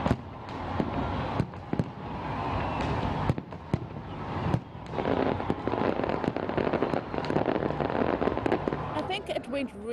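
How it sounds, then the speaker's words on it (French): A New Year 2016 fireworks display crackles and bangs in quick, irregular bursts, fairly distant, under a voice talking. "un majestueux spectacle de feux d'artifice a été organisé pour marquer le passage à la nouvelle année 2016."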